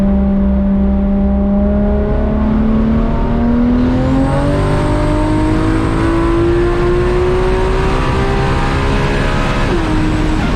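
A 1000-horsepower Toyota MKIV Supra accelerating hard in a pull, engine note rising steadily in pitch with a loud, continuous drone from inside the car, ending in a brief dip as it shifts.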